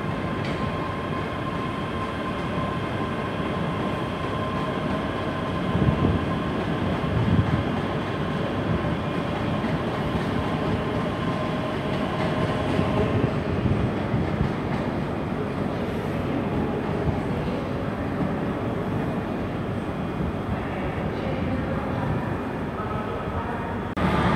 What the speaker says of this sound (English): departing out now is the 15:30 departure for Edinburgh Waverley, heading via Falkirk High